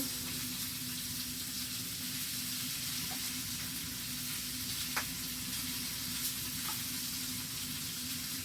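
Tomatoes tipped into a hot pan while cooking grilled pork chops, frying with a steady, even sizzle and a few faint clinks of a utensil, close and alone without talk.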